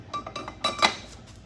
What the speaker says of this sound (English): We're gonna put our wrench on here and see.